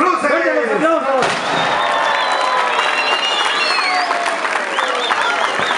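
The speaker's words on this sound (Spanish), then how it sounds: "¡Vengan los aplausos!" Crowd at a Christmas lights switch-on in a park bursts into loud, sustained applause and cheering with whoops, right after voices shout a countdown; the clapping swells and holds steady throughout.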